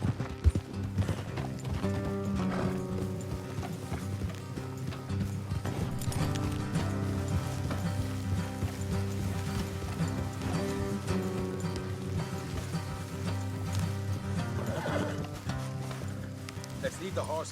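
Horses clip-clop steadily through the whole stretch in Red Dead Redemption 2, their hoofbeats blended under a continuous game score.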